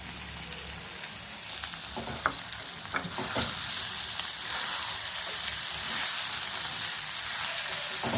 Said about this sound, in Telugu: మెత్తపట్టడానికి అల్లం వెల్లుల్లి పేస్ట్, బంగాళాదుంప ముక్కలు వేసేస్తున్నాను.